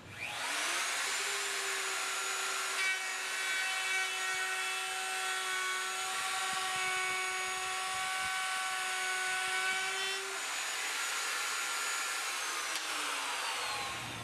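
A big router fitted with a jig makes a 1/4 inch deep cut in wood boards, giving a loud, steady high whine that spins up, runs for about ten seconds and then winds down.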